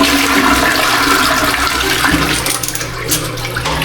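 A toilet flushes in a room bathroom in Boracay, a loud rushing gush of water that tapers off toward the end, heard close up and alone.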